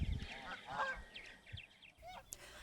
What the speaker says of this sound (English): geese also have a somewhat distinct but annoying call